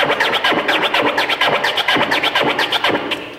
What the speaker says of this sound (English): a flare, you know, would sound like this